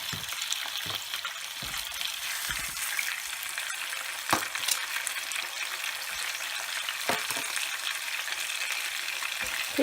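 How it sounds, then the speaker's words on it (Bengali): Carp fish pieces lightly frying in hot oil, a continuous even sizzle with scattered pops and crackles, close and steady with no talking over it. "খুব বেশি ভাজবো না, হালকা করে ভাজবো। 1 মিনিট এপাশে 1 মিনিট ওপাশে।"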